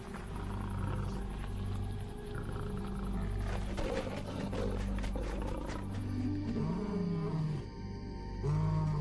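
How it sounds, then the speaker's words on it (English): Wild lions in Africa roar in deep, rumbling bursts that carry over a continuous low background, loud and sustained through the stretch with no voices. "Lions have 9 different vocalizations, but it's their roar that indicates their domain."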